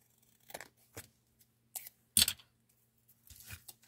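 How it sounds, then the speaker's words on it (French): Scissors trimming excess card stock from the back of a handmade greeting card: about five quiet, crisp snips spaced irregularly, separated by near silence. "donc je viens couper l'excédent sur l'envers"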